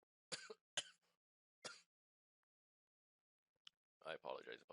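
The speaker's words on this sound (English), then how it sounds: "I didn't mean to cough into the microphone." A few sharp coughs close to the microphone, separated by short pauses and followed by silence, then a voice starts talking.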